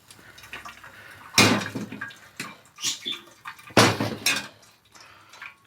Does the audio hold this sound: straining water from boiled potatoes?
yes